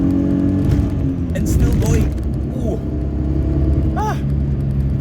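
A 2004 Perodua Kancil's small engine pulls steadily under acceleration on a cool evening with the aircon off, a continuous low drone heard from inside the cabin while a person talks over it and exclaims briefly.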